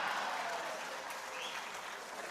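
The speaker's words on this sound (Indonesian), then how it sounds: "sedikit-sedikit tepuk tangan, tepuk tangannya keras lagi" A crowd applauds during a political speech at the LDII 2023 national working meeting, producing a continuous wash of many hands clapping, moderately distant and softening slightly toward the end.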